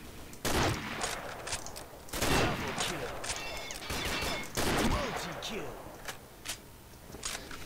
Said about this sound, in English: It only takes two shots to destroy the box.